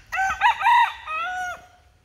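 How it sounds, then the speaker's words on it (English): A rooster crows once at Aburi Gardens, a single close, clear cock-a-doodle-doo lasting about a second and a half against a quiet background. "roosters crow pretty much all day"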